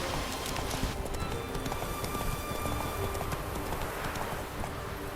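Roach the horse galloping in The Witcher 3 video game, a rapid rhythmic run of hoofbeats continuing throughout, close and steady over faint game background.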